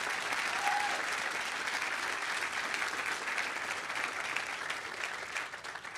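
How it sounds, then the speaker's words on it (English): A crowd at a golf course grand opening applauds in a steady, even wash of clapping that holds for six seconds and tapers slightly at the end. "Can we get a round of applause for that?"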